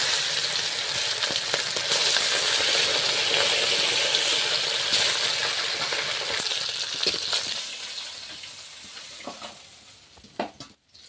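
Loud, steady sizzling of bata fish frying in hot oil, with occasional stirring scrapes, fading toward the end with a few clinks.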